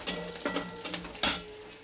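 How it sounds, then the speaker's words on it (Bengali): Bori, small sun-dried lentil dumplings, fry in oil in a wok. A soft sizzle runs beneath several sharp clinks and scrapes of a utensil against the metal, close by and with no one speaking. "তার জন্য বড়িগুলো ভাজতে দিলাম"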